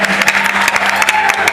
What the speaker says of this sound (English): Anjana and the entire orchestra needs another round of applause for that exquisite display